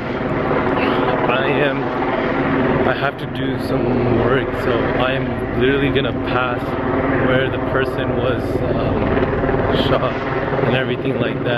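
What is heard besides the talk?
helicopters flying overhead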